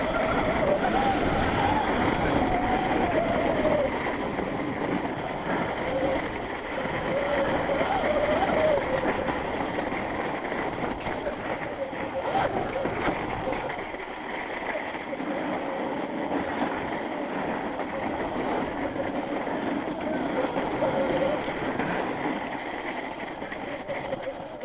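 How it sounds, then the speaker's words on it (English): A Sur Ron XX electric dirt bike held at full throttle with its tire spinning on snow over ice, giving a steady whining motor and churning hiss that goes on and on, with occasional voices nearby. "We're going full throttle right now, but we're just getting a lot of tire spin."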